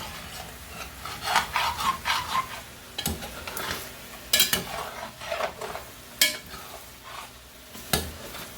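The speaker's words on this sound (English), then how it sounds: "When I get all this scraped out from the bottom." A spoon stirs and scrapes the bottom of a pot of Cajun-style red chicken gravy with onions, giving repeated rasping strokes and soft sizzling in irregular bursts.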